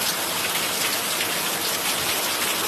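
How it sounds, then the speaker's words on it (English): Heavy rain pours down steadily outdoors, a dense, loud, continuous hiss of drops striking surfaces with no voices present. "Well, it is pouring out here."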